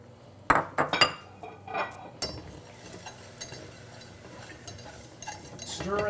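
Flour being stirred into a paste in a pan, a utensil clinking and scraping against the metal in a few sharp knocks, then settling into a soft, continuous scraping stir.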